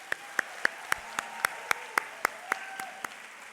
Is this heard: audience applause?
yes